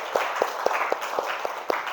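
A small group clapping hands in a steady rhythm, seven crisp claps spaced about a quarter second apart, close and fairly loud.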